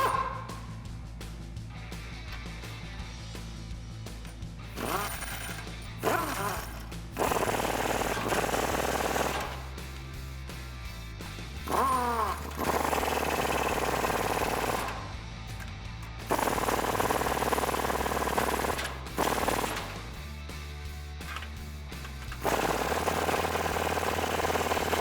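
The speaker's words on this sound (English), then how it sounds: "tighten these up again in a crisscross pattern with a 22mm socket" Leaf spring U-bolts on a Toyota Tundra being tightened with a 22mm socket, loud rapid whirring bursts of a powered driver, several separate runs of a few seconds each with short pauses between, close by and without talk.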